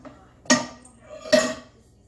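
A spoon stirs cheeseburger soup in a crock pot, giving two separate metallic clinks and scrapes against the pot about a second apart, quiet and close, with no talking.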